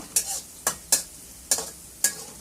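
Taro (kochur mukhi) with onion and chili is stirred in a pan: five distinct scraping strokes, each a short bright rasp, come at uneven intervals over a low, steady sizzle.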